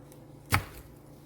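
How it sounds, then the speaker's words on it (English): A single crisp knife stroke through an onion by hand on a cutting board, preparing an onion soup, one close sharp chop in an otherwise quiet room. "I'm going to go ahead and slice all these 12 onions up"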